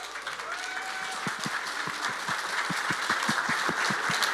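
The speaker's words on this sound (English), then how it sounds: "A big round of applause for Mr." Audience applause at a blockchain summit in Dubai, a broad wash of clapping that builds gradually, with a few distinct sharp claps standing out near the front.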